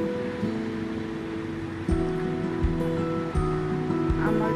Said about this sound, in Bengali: তেলে মাছগুলো ভেজে নেব।